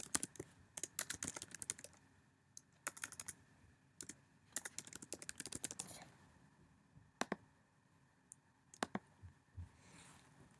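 Code is typed on a computer keyboard in quick clusters of clicking keystrokes, with pauses between bursts and a few isolated taps near the end, faint and close in a quiet room.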